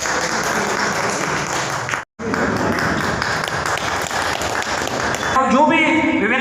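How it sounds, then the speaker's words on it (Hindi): Crowd applause fills a ceremony honouring elders at a Brahmin community gathering, dense sustained clapping with a brief gap, while someone speaks over it through a loudspeaker. "आ जाए जोरदार तालियां"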